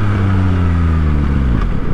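A motorcycle engine revs on an open road during a solo ride, a loud, close, steady buzzing drone that shifts pitch and falls away near the end.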